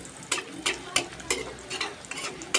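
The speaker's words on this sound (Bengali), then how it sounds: "এই যে লুচিগুলো ভেজে নেব।" Luchi, puffed flatbread, frying in hot oil, served alongside chicken chaap, with a close, bubbling sizzle broken by repeated bright scraping or ladle strokes about every third of a second.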